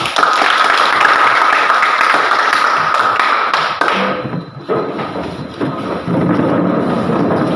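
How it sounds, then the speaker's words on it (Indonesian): A classroom of vocational school students bursts into loud, dense applause that holds for several seconds, then thins into scattered claps, thumps and murmuring voices. "Ya, tepuk tangan."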